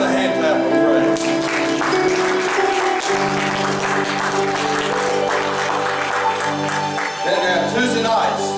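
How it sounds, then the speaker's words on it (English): Congregation applauding with hand claps in a church service, a dense steady wash of clapping that carries on throughout, with sustained organ or keyboard tones droning underneath. "Give them another hand clap of praise"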